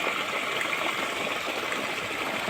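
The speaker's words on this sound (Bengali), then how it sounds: "এইভাবে জল নিচে নিচে বায়া বায়া পড়ে," Rainwater runs downhill as a small stream, giving a steady, soft rushing and gurgling flow that stays faint and continuous with no voices over it.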